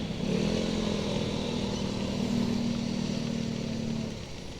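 A motorcycle weaving through traffic hums steadily at close range, holding a low, even drone before easing off near the end, with faint traffic noise around it.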